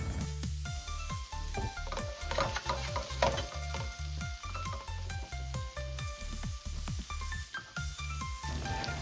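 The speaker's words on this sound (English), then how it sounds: "saute the onion, bell peppers, and ginger until tender and crisp." Onion, bell peppers and ginger sauté in a skillet, sizzling steadily while a utensil stirs and scrapes them in a regular rhythm. The sound is close and fairly quiet, with no voices.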